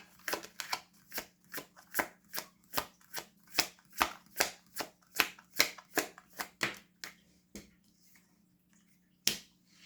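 Tarot cards being shuffled by hand, a steady run of crisp riffling slaps about every half second, close and clear over a faint hum, thinning out toward the end with one last snap.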